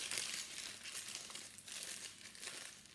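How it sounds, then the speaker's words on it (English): A plastic piping bag filled with royal icing is folded by hand, giving quiet, close crinkling and rustling in irregular bursts throughout. "Fold the bag in"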